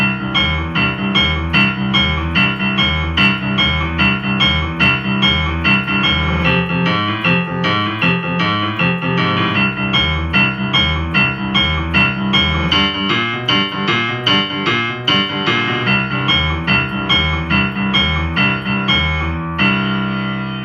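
A rolling twelve-bar boogie-woogie piano bass line, steady repeated left-hand pattern with chords on top, loud and continuous with no talking.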